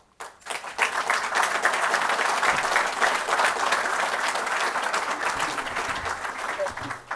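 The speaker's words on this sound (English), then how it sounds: "I appreciate your applause." An audience at an award ceremony applauds, dense and sustained clapping filling the room for several seconds after a brief quiet start, then fading slightly toward the end.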